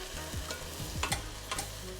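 Potatoes, celery and other vegetables frying and being stirred in a pot for soup, soft sizzling with scraping spoon strokes at irregular intervals, quiet and close, no voices.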